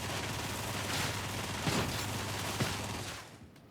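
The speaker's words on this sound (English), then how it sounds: "And then we've got the Mark 6D, which is less damage, but much faster. Last gun goes brrr." Mark 6D gun in Warhammer 40K: Darktide fires in a rapid, continuous stream, a dense rattling burst of shots with a few heavier thumps that fades out at the end, no voices.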